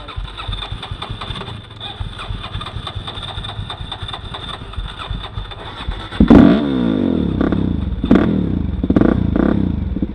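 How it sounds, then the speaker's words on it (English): An engine, likely a motorcycle, is cranked with the throttle held partly open: a steady rapid starter chatter runs for several seconds, then it catches and fires up into a louder, rough running idle up close. "Just crank it with the throttle open a bit."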